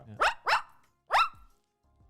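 A human voice imitates a dog barking, with two quick woofs and then a third after a short pause. The barks are close and loud, and someone briefly says a word.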